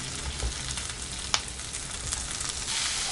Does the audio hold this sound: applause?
no